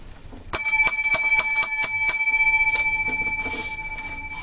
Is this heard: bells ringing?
yes